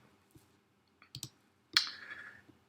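A few soft clicks at a computer as a mouse button is pressed on a form's Submit button, quiet and close, followed by a brief brighter swell of sound.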